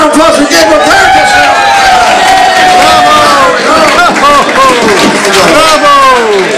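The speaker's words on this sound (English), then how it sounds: "How about a round of applause for Gabriel Kerekes?" A crowd claps and cheers loudly and continuously, a dense wash of applause with voices calling out throughout.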